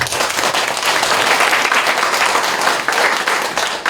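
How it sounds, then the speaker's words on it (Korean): Congregation applauding at a church dedication thanksgiving service, loud, close, sustained clapping from many people, rising slightly in the middle and continuing steadily to the end. "축하하는 의미로 박수 한번 드립시다"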